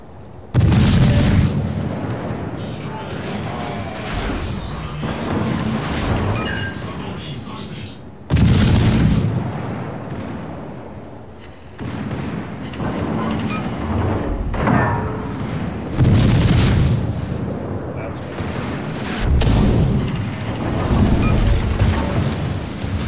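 Heavy booming explosions in World of Warships during a Tier 8 cruiser battle, several deep blasts spaced through the clip over continuous rumbling battle noise.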